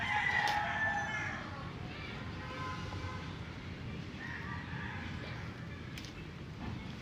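A rooster crows at a moderate distance, its call rising over steady rumbling background noise outdoors, with a second, fainter crow following a few seconds later.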